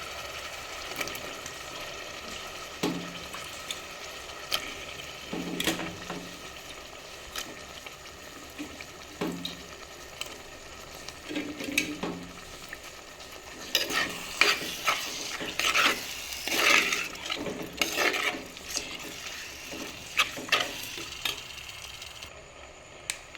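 Prawns sizzle and are stirred through masala in a pan for a prawn chili curry. Close spoon scrapes and gentle frying noises come and go, growing busier and louder midway before settling again.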